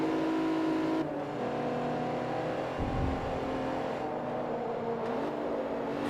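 Racing car engine from Forza Motorsport 3 drones steadily in a tight pack of cars, near and loud, with sustained whining tones that shift pitch as the driver works the throttle; no talking.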